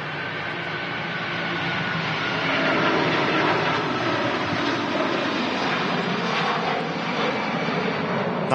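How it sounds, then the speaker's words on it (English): Turkish Airlines Airbus A330 jet engines roar at Manchester Airport, a loud, sustained broadband rumble and hiss that swells slightly midway and holds steady as the aircraft passes nearby. "That Turkish Airlines 330 sounded unbelievable."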